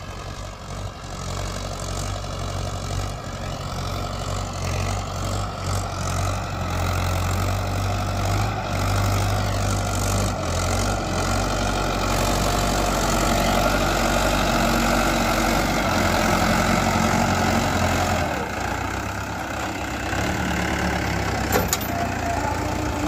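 A Mahindra 575 SP Plus 47 HP tractor pulling a plough runs with a steady, loud engine drone throughout, its low rumble holding constant with no speech over it.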